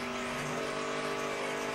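Greg Biffle's 18 NASCAR race car roars into turn 1 at about 200 mph during the 2008 Pennsylvania 500, a dense, steady engine howl heard from a distance and blended with track noise.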